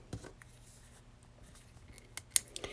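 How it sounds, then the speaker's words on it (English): Scissors trimming the overhanging edge of a 3-inch strip of gingham linen patterned paper on a card, a few quiet snips and a sharp crisp cut near the end, close and alone. "I will cut off the overhang with a pair of scissors"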